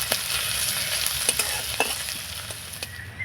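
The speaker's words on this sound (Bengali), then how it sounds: "একটু নাড়াচাড়া করে ফোড়নটা ভেজে নেব।" Ginger and green chili tempering stir-fried in hot oil, a steady close sizzle with scattered sharp spoon scrapes and clicks against the pan, no voices.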